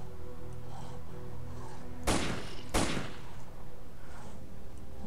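Two loud, sharp gunshots in the shooter game Lost Alpha, spaced under a second apart, over a steady low ambient hum.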